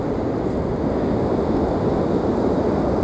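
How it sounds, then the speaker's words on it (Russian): Storm surf pounds the sandy beach at Anapa in hurricane-force wind, a loud, continuous roar of breaking waves mixed with wind buffeting the microphone and no voices. "Вот, смотрите, какой сегодня шторм,"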